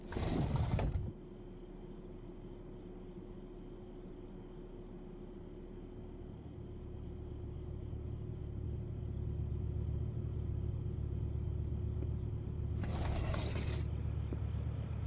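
Steady low engine rumble of a car in a PS1-era video game, a continuous drone that swells slightly over time, framed by brief bursts of bright noise at the start and end.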